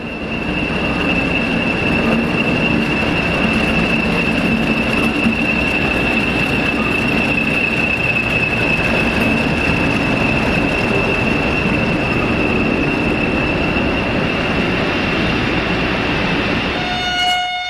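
British Rail Class 40 diesel locomotive 40013 arriving at Wansford, a loud, steady train rumble with wheel noise and a sustained high squeal holding throughout, ending with a short tonal note near the close.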